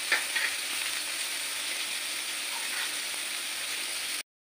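Raw onion slices with cinnamon fry in a pan, giving a constant, even hiss of sizzling oil close by, with faint scraping stirs, before cutting off abruptly.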